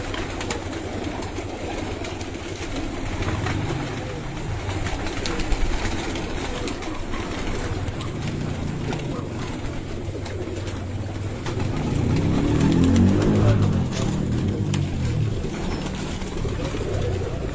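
Pigeons in a rooftop coop coo softly and rustle amid a hum of low background noise, with a faint engine passing nearby and a brief louder stretch near the end.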